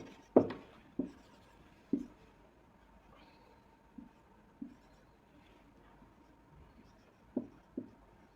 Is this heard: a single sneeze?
no